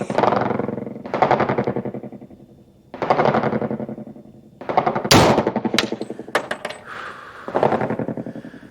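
Duty guns fired over a chronograph outdoors: a sequence of loud, booming shots a second or two apart, each ringing out with a long echoing tail, with a few sharper cracks near the middle.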